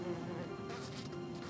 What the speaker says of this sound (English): the guard bees seem to be fighting off the yellow jackets okay